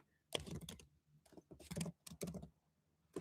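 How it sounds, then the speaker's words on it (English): Typing on a computer keyboard during a card-game livestream: irregular bursts of clicking keystrokes in short clusters, close and moderately quiet. "I'm typing on the wrong keyboard"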